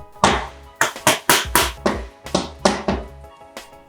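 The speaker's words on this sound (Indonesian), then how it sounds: "Lalu padatkan dengan cara diketok-ketok seperti ini ya." A round mold, 8 cm across and 7 cm tall, filled with sausage mixture, is knocked down against a hard surface about a dozen times in uneven pairs, each hit a sharp, close thud.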